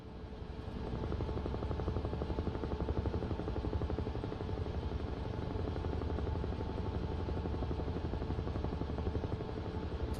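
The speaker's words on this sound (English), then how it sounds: "Let's jump back in the helicopter." A helicopter in Microsoft Flight Simulator flies with a steady, rapid rotor chop and a constant engine drone, loud and close, with no talking.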